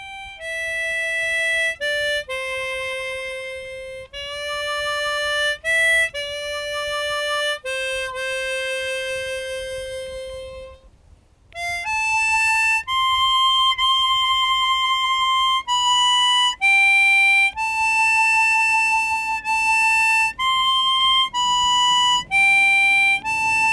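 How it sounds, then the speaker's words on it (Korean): A solo harmonica plays a slow, sustained melody beside the river on the Yangpyeong Dumulmeori trail, with clear held notes and chordal reeds and a brief pause partway through. It is loud and close with no talk over it. "흐르는 강물에 하모니카 선율을 실어 보냅니다."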